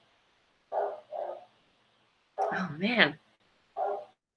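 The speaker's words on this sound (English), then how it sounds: "Sorry about the dog." A dog barks indoors during a casual group conversation: two short barks, then a longer whining, yipping outburst and one final bark, with a person speaking briefly.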